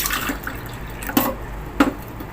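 Water poured from a tumbler into a pot to make ragi porridge: two short splashing pours over a quiet kitchen background, with soft trickles in between.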